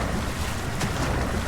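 Water splashing in the horror game Amnesia: The Dark Descent, a continuous rushing, sloshing wash that fills the space, steady and fairly loud, with no talking.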